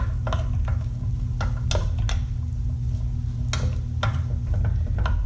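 Mushrooms stirred and sautéed in a pan, with repeated scraping clatters of a utensil against the pan over a steady low kitchen hum and faint sizzle.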